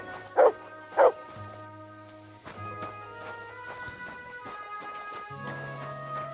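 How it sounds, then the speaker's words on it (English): Two sharp, loud dog barks from the dog companion in Kingdom Come: Deliverance II come early, spaced about half a second apart, followed by steady in-game ambience and tonal music with no further barking. "Good dog, Mutt"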